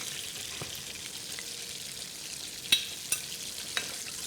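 Chicken pieces frying in hot oil for a chicken basket, a faint, steady crackling sizzle with a few sharp pops and light clatters near the end.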